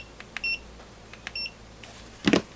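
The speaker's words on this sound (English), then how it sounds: "let's do continuity testing" A Mustool MT11 multimeter gives two short, clean continuity beeps during a probe test, each with faint probe clicks around it. A louder brief rattle or clunk follows near the end.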